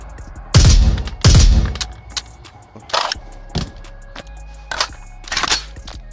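Several sharp, loud gunshot bursts, some doubled, spaced irregularly across a few seconds over a low background hum.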